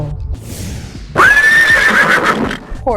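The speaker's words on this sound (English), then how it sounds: "Horse." A horse gives a loud, close whinny that rises and trails off over about a second and a half, with a faint rustle before it and no speech.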